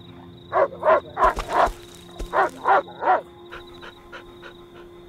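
A hostile animal in the survival video game Rust, a dog or fox, gives about nine close, loud barking snarls in quick rhythmic bursts over a steady low background, with no talking.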